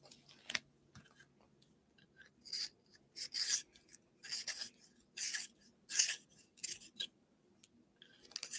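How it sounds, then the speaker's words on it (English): A handheld pencil sharpener shaving a pencil during a relaxed coloring session, heard as repeated short bursts of scraping and rasping that come in uneven strokes, close and fairly clear with quiet gaps between. "And I did get this pencil sharpener"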